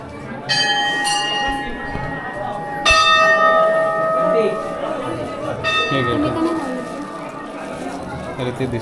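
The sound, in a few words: temple bell ringing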